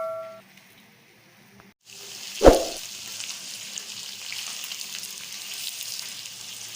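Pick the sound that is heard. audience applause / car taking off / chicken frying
chicken frying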